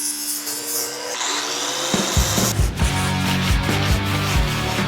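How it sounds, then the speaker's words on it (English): An angle grinder cleaning up metal on the body of a 1967 Mustang coupe being converted to a fastback, whining and scraping steadily at close range with no talk. "Now I can get back in here with the grinder and finish cleaning it up."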